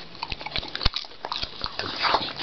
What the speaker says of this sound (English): Vicious savage dog.